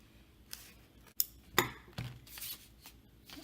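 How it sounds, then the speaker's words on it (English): Scissors snip through the center of a paper craft template, several sharp, crisp cuts spaced unevenly, close and fairly quiet with no talking. "I'm just going to use my scissors to cut the center out."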